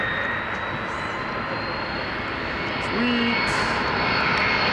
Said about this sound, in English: McDonnell Douglas DC-10.